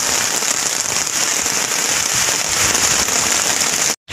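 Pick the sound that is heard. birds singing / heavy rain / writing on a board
heavy rain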